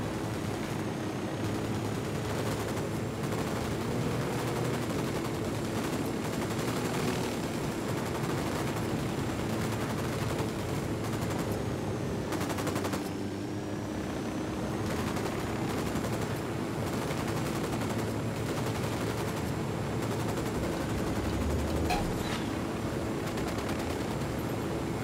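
A sustained firefight in the tactical shooter Ghost Recon Wildlands, with dense, continuous rifle and machine-gun bursts rattling throughout alongside distant booms, loud and unbroken for the whole stretch.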